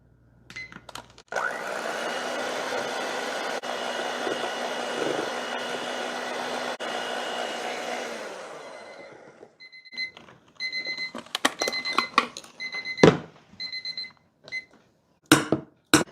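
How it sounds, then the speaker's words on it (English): An electric mixer beats cake batter for a poke cake, giving a loud, steady whirring drone for about eight seconds before it cuts off. Scattered clinks and knocks of bowl and utensils follow. "And now with the electric mixer, we mix it for 3 to 5 minutes."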